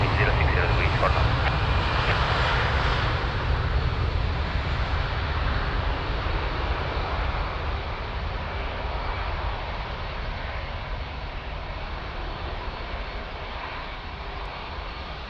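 An airliner approaches to land on runway 02 at Lisbon Airport, its engine roar loud and broad at first, then slowly fading and thinning as it passes, with an air traffic radio voice talking over it.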